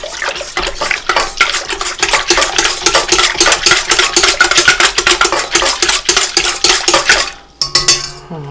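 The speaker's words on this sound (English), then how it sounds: "I'm going to whisk that together till the honey's dissolved" A metal whisk beats rapidly against a bowl, dissolving honey into liquid for challah dough, a fast steady clatter of loud close scraping strokes that stops abruptly near the end.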